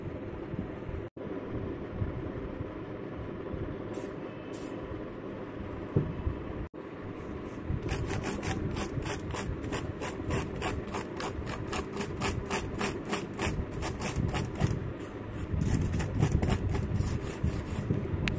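Cleaning dust from a laptop keyboard, with steady close rubbing and scraping that turns into a rapid series of regular clicks or brush strokes in the second half. No one speaks.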